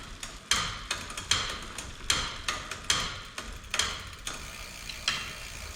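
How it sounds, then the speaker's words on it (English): Bicycle pedals are turned with a pedal wrench still fitted to loosen and remove a pedal, producing a steady series of sharp metallic clicks and ratcheting ticks close by, about two per second. "get the pedal wrench on there, push down towards the ground, and then pedal the bike with the wrench still on there"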